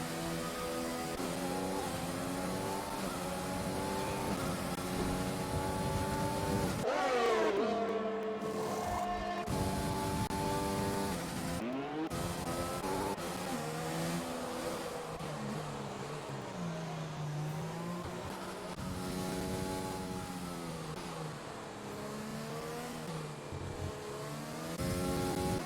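Race cars in a sim racing game roar continuously through the whole stretch, engines revving up and down with gear changes and several cars overlapping, loud and steady with no talk.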